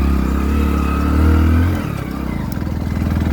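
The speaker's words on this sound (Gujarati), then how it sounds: "જેટલા બધું બાઇક જાય એટલા આપણે જવા દઈએ છીએ." Motorcycles pass close by on a steep country road leading up to an old temple in the countryside, with a loud, steady engine drone that swells and then eases off as the bikes ride past.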